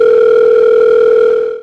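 A telephone call is placed and a steady, loud dial tone hums continuously, a single unbroken tone that fades away at the very end.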